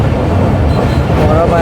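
The Jaffar Express rumbles steadily across Ayub Bridge in the dark, a loud, continuous low roar of train wheels and carriages heard from on board.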